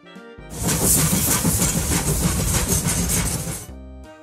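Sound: train

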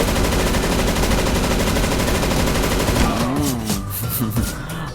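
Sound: shotgun gunfire in the video game CS:GO

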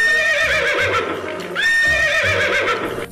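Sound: horse neighing in a video game

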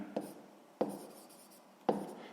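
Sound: writing during a math exercise

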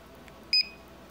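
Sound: Symbol CS3070 barcode scanner pairing confirmation beep

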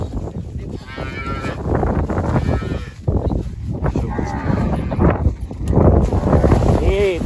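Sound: cattle mooing during cattle herding

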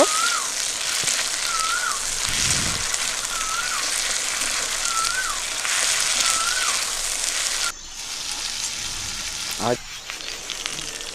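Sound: garlic paste and green chilli paste frying in pan

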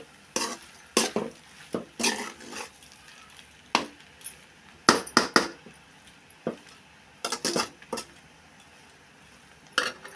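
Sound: stirring egg pasta in a pan

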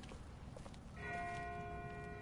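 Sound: distant bell ringing in The Walking Dead video game

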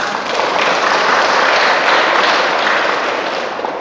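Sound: audience applause

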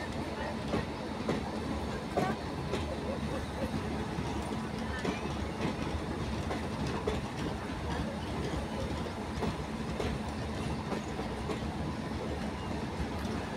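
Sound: train passing through Rajpura railway station

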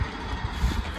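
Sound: tractor working on a field

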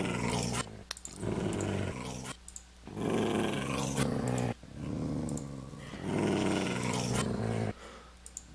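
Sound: dogs growling in Minecraft video game

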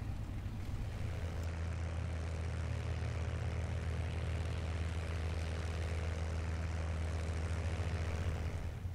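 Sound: P-51B Mustang propeller engine taxiing, from a flight simulator video game

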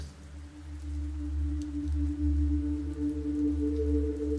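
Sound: light rain falling on a car windscreen

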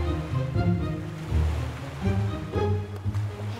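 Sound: wild sea waves in a cartoon

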